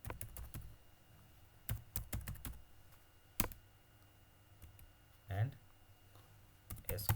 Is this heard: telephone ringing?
no